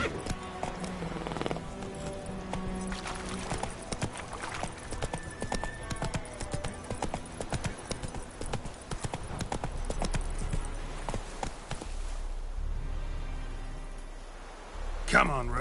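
Roach the horse galloping in The Witcher 3, a fast, steady run of hoofbeats lasting most of the stretch over music, easing off toward the end before a short sharp sound.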